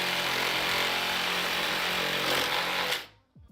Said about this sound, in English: I definitely thought the Sawzall was going to do the trick, but it actually wasn't able to cut through the metal card.